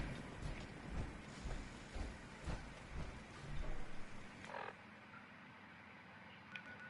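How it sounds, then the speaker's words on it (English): Heavy rain falls steadily outside, a dense continuous wash of patter with a few louder gusts partway through, heard from indoors without any talking. "it's pissing down rain outside."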